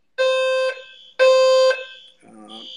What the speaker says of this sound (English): I feel like there's an alarm going on.